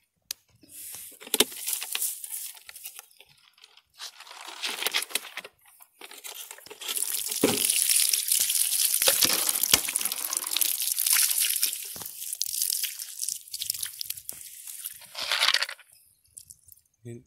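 Water is emptied out of two PET plastic bottles punctured by lead shot, giving intermittent splashing and pouring mixed with loud crinkling and crackling of the thin plastic, close up.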